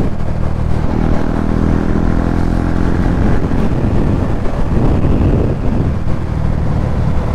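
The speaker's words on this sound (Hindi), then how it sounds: "साउंड चेक करो 390 की भाई, विदाउट एग्जॉस्ट साउंड है भाई, बहुत तगड़ा साउंड आ रहा है" A KTM Duke 390 motorcycle running without its exhaust gives a loud, continuous raw engine drone, heavily buffeted by wind noise throughout.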